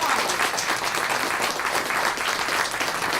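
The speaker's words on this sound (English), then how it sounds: "give them another round of applause" An audience at an aviation park ribbon-cutting ceremony applauds the Walker Wolverines youth chorus, with a loud, dense, continuous wash of clapping from many people throughout.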